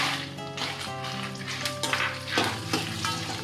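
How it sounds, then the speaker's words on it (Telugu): Dried red chillies, coriander seeds, urad dal and cumin sizzle steadily in hot oil in a pan, a continuous close crackle with occasional stirring scrapes and no talk. "కొంచెం బాగా ఎర్రగా వేగేదాకా వేయించుకోవాలి."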